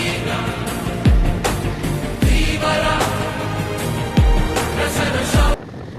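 A vehicle pushes along a main road through strong, fast floodwater from the overflowing Krishna river, with water reaching its silencer. A steady loud rush of water runs throughout, broken by several deep, heavy thumps and splashes.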